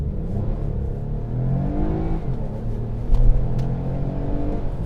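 A 2018 Toyota Camry XSE V6 launches hard from a standstill, its engine note rising steadily under a continuous road and cabin rumble, with no talking.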